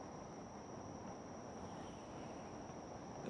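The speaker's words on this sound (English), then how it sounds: "You can just about hear the crickets in the background." Crickets chirp faintly as a steady high trill in the background at an empty Tokyo 2020 Paralympic wheelchair tennis court, beneath a low ambient hum with no crowd noise.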